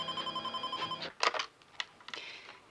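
An electronic telephone on a German TV crime drama rings in a quick repeating trill for about a second, followed by handset clatter and faint room noise.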